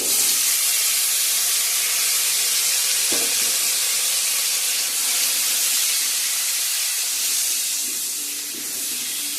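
Vegetables tipped into hot oil already tempered with onion, dried red chillies, bay leaves and whole cumin for an egg curry, sizzling and hissing loudly and steadily throughout, with a brief clatter partway through.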